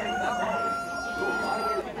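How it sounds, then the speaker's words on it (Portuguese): Rooster crowing amid the bustle of a poultry and livestock market in Caruaru, Pernambuco, with turkeys and other fowl nearby; a sustained, fairly close crow rises over steady crowd noise and faint voices. "Tem mais um galo bonito ali"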